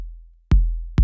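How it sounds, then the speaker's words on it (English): An 808 kick drum from the Ableton 808 Core Kit, tuned fat with drive and vintage coloring, hits twice in isolation, each a punchy, deep boom with a short decaying tail. "So it really does sound like a fat 808 kick drum"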